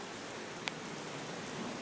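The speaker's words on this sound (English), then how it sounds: "And the rain's just generally falling now." Steady rain falls outdoors around a parked car, a soft even hiss of drops with one brief tap partway through and no voices.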